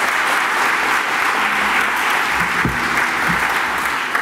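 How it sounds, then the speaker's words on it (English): Audience at an event honoring Congresswoman Barbara Lee breaking into sustained applause for Phil, a dense, loud wash of clapping from a crowd, with faint voices underneath. "Give Phil a round of applause"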